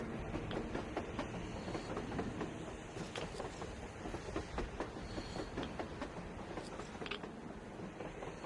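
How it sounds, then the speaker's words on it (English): A train in the video game Metro Exodus rumbles past with steady clattering of wheels on rails and hissing, continuous and fairly loud throughout. "A train! A damn train on the surface!"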